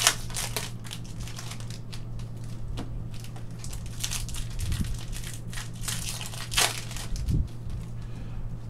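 Stadium Club trading cards are peeled apart and shuffled by hand, giving soft crinkling and papery rustles with occasional sharper crisp snaps, steady and close against a low constant hum.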